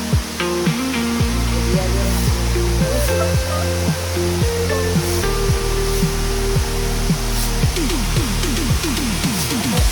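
Rushing water of Wiharamaldeniya waterfall at a Rajjuru Bandara shrine site in Elamalde, a dense continuous roar held loud throughout, with steady broadband spray and no talk.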